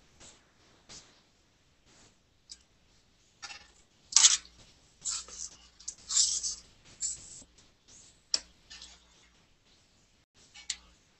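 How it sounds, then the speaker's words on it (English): Small screws are removed during a Samsung Galaxy S3 teardown, producing close, quiet clicks, ticks and scrapes of a tool and parts, scattered irregularly with brief louder taps. "Need to get these other two screws out"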